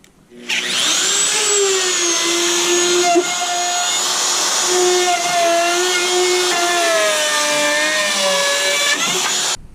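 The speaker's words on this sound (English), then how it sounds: "I cut off the middle of the hole with jigsaw" A jigsaw cuts through plywood for bunk bed fronts in a skoolie, a loud, steady buzzing whine that starts abruptly, holds for several seconds with slight pitch shifts, then stops.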